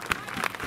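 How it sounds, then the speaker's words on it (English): A stadium crowd at an athletics long jump claps in slow rhythm for a woman jumper, three or four spaced claps heard under a nearby announcer's voice. "So come on, folks. Get the clapping going."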